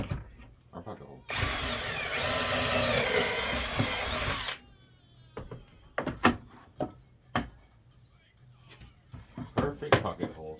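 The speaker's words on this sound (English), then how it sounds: "we take our bit and we drill our pocket hole" A power drill bores a pocket hole in wood with a pocket-hole jig, a loud steady whine lasting about three seconds, followed by clunks, clicks and knocks as parts are handled.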